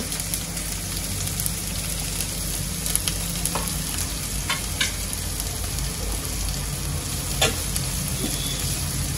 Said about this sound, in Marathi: कांद्याला चांगला तेलामध्ये परतून घेते मी.